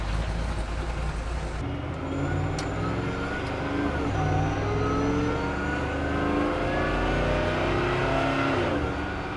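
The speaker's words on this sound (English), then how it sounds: "the engine's there, but it's certainly not overbearing" An 840 HP Perentie 6x6 Land Rover cruising on the road, its engine a steady, moderate drone with gentle rises in pitch over continuous road and wind noise inside the cabin, with no talking.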